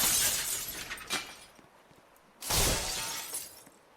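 In a Roblox tugboat wreck, glass shatters in two bright, crashing bursts, the second louder, each trailing off in tinkling debris.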